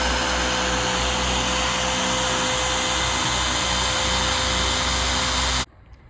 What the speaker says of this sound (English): I'm coming in with the polishing compound and polishing pad just to see if it's going to make any difference